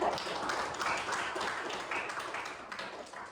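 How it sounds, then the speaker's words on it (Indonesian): Faint, steady clapping from an audience at a university teaching session, a soft patter of many hands heard at a distance with no voices over it. "Boleh jadi tepuk tangan."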